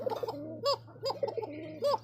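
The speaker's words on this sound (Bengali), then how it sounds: "এগুলো কিন্তু খুব ডাকছে ভিডিওতে" Fancy pigeons, including American breeds, coo in a loft at a pigeon market, with several soft, rounded coos repeating in quick succession nearby over a faint steady hum.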